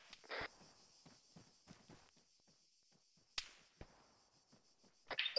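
Scattered gunshots crack during a military video game firefight in Havoc 4 - Gunner, a few sharp loud reports among fainter distant pops and clicks.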